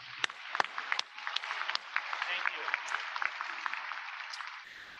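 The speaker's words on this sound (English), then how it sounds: "How about one more round of applause for Scott?" A crowd at a university new-student convocation claps steadily and fairly faintly, a dense patter with a few sharper claps standing out, fading at the end.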